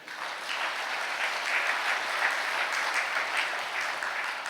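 Church congregation applauding together during a Catholic priest's sermon, a steady wash of clapping hands that holds evenly from start to finish with no talking over it.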